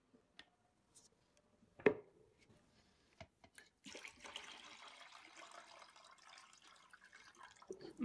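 Water poured off chicken that marinated overnight, a few faint drips and splashes followed by a soft, steady trickle of draining liquid, close and quiet.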